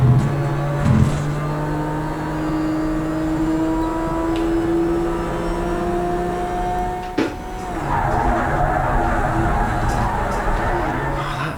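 Race car engine droning steadily at Silverstone in the racing game Project Cars 3, with a rising engine note and tires squealing and sliding, loud and continuous throughout with a brief thump near the middle.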